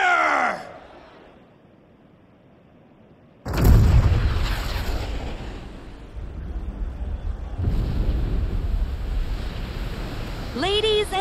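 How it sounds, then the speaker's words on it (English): Junon's huge cannon fires in Final Fantasy VII Rebirth, a single massive boom that erupts after a quiet stretch and rolls into a long, loud rumble. Later surges of roaring noise follow, and a voice is heard near the end. "with a single blast of Junon's famous cannon, Rufus Shinra has announced his arrival."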